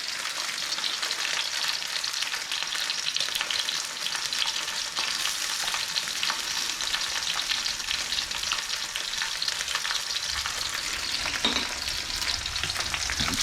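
Pork chop searing in a hot pan while being basted with thyme and butter, a steady loud sizzle and crackle running continuously, with faint spoon scrapes mixed in.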